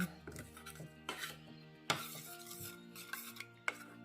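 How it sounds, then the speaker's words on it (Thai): A spoon stirs homemade sukiyaki dipping sauce with toasted white sesame seeds, giving close, steady scraping swirls punctuated by a few sharp clinks against the bowl, with a soft tonal backdrop and no talking. "คนนะคะ ให้เข้ากัน"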